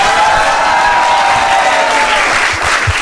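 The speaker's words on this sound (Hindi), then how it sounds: "Start clapping for the 3 contestants for today." A studio audience applauds the three contestants of a comedy show, a loud, dense, steady roar of clapping that fills the whole stretch with a faint murmur of voices underneath.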